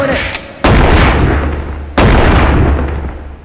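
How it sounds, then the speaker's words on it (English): Two heavy landmine blasts in the VR game Animal Company, each a sudden loud boom that rumbles and slowly decays, the second following about a second and a half after the first. "You already stepped on the landmine."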